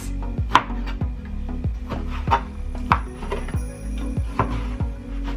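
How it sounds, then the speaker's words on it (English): A knife dices vegetables for a healthy island recipe on a wooden cutting board, giving about ten sharp, evenly spaced chops close up, with no talking. "we're just gonna dice these up in like small diced up pieces"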